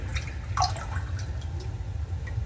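Bacon grease is poured through a screen strainer and drips and trickles steadily into a container, close by, with faint splashes and no talk.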